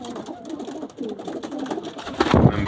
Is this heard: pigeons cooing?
yes